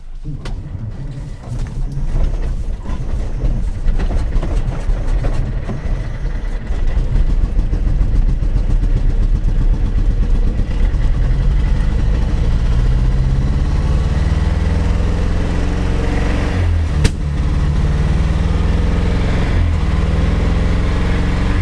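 An old communist-era Polish car engine runs steadily with a low, rough rumble and a faint rhythmic throb, loud and close, with a brief clunk near the end.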